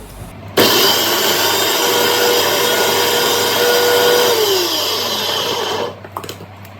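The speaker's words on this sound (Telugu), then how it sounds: "ఇప్పుడు మిక్సీ పెడదాము" A kitchen mixer grinder whirs loudly while blending beetroot, starting abruptly, running steadily for about five seconds with a slight pitch drop as it slows, then switching off.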